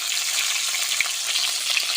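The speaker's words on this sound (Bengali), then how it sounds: "ডাটাটা ভেজে নেব মাছ ভাজা তেলের ভেতরেই।" Steady, close sizzle of vegetable stalks frying in oil left over from frying fish, dense and even with a couple of small pops and no talking.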